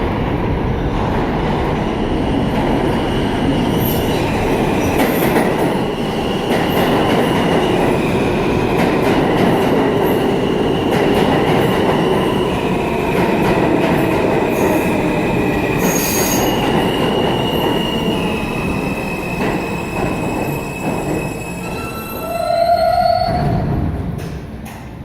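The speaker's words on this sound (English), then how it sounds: "This is a Queens-bound E train." A Queens-bound E subway train rumbles through the 5th Ave–53rd St station with a loud, continuous roar, high wheel squeals and clicking rail joints, then a chime sounds near the end.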